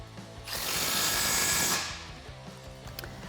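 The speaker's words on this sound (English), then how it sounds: "Tighten that down with a 13mm socket." A power tool runs for about a second and a half, tightening a 13mm socket on the exhaust clamp of a Magnaflow Street Series cat-back exhaust on a 2.0L Jeep Wrangler JL. It is a close, steady whir that rises and then stops, with no talking.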